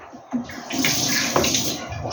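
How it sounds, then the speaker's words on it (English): Tap water runs steadily for a couple of seconds while hands are washed in a kitchen during curry prep, a broadband hiss rising after a brief quieter start, close and alone. "Wash my hands so I can sort everything else out."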